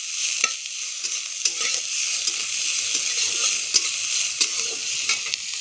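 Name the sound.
frying onion in oil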